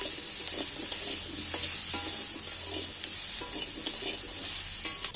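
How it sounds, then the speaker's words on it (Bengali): Steady sizzling of onions frying in hot oil, with occasional stirring scrapes and light clinks from a pan, close by and without talk. "শুধু ওই তেলটার মধ্যে একটু জাস্ট ভেজে নেবো"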